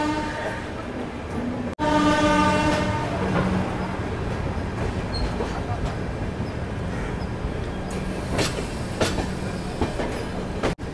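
The Chennai-Bengaluru Double Decker Express, hauled by a WAP 7 electric locomotive and leaving Chennai Central, gives a steady rumble with rhythmic clickety-clack of wheels on track, brief sharp horn-like blasts and faint voices in the background.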